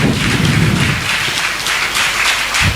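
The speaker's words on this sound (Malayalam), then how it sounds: "നല്ലൊരു കൈയടി കൊടുക്കി, നല്ലൊരു കൈയടി കൊടുക്കി" A hall audience at a school SSLC victory day celebration claps loudly and steadily for a few seconds, a dense wash of hand claps with no speech over it.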